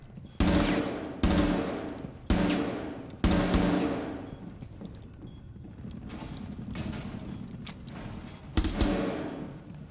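Gunfire in the tactical shooter game Rainbow Six Siege: several sharp, loud shots in quick bursts, one pair near the start and others spaced a second or so apart, with a rumbling tail between them and a final shot near the end.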